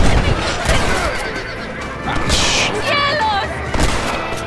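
A horse whinnies loudly amid a busy Red Dead Redemption game soundscape of hoofbeats, thumps and gunfire bursts.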